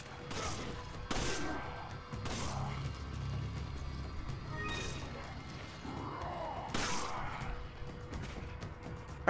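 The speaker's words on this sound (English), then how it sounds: "How many times I gotta shoot you in the head?" Handgun shots in Resident Evil 5, a handful of sharp reports spread across the stretch amid thuds, mechanical game noise and scuffling, moderately loud with faint voices now and then.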